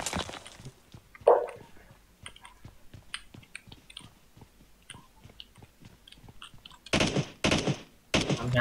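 Bursts of gunfire in the battle-royale game PUBG, with scattered single shots early and loud rapid volleys near the end, under players' excited talk.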